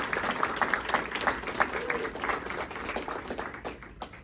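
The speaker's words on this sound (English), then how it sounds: "Give yourself a round of applause." An audience claps steadily in a room, a dense, moderately loud patter of many hands that slowly tapers off.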